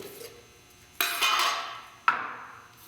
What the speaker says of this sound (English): Alright, we're just going to pop the lid.